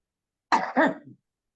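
A single short cough, two quick rough bursts like a throat being cleared, close and alone in silence.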